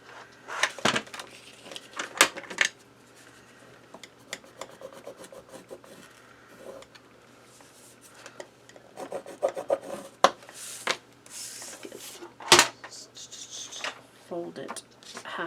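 Paper folded and creased by hand for a handmade mini album, with scattered rubbing and rasping strokes and crisp crackles, some louder bursts near the start, middle and end, close and fairly quiet with no talking.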